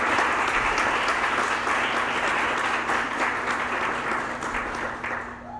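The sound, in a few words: audience applause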